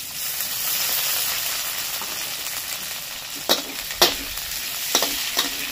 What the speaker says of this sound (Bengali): কাঁঠাল দানাগুলো দেখো একদম ভালো করে ভেজে নিয়েছি